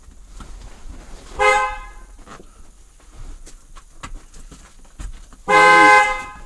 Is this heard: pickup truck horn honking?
yes